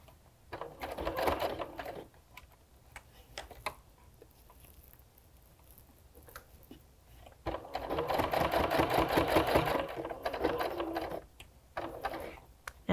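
A sewing machine stitches along the binding of a log cabin potholder from the right side, running in two rapid mechanical bursts with a quieter pause between them.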